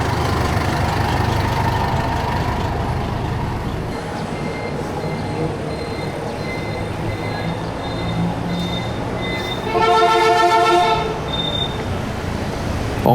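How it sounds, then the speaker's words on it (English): Busy street traffic in the beach city of Vung Tau, Vietnam, with a steady engine drone throughout and a loud, sustained horn blast near the end, without speech. "You'll hear traffic, car and motorbike horns"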